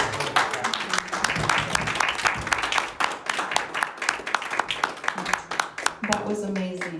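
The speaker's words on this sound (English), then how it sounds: "Please, another round of applause for Kat." Moderate applause from a congregation at a Sunday service, with distinct individual claps audible over a softer wash and some talk and room noise mixed in, tapering near the end.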